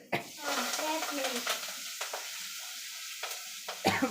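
Spices tempering in hot oil for drumstick sambar, with a sharp burst of sizzling and frying crackle that settles into a softer, steady hiss, broken by a few clinks of stirring.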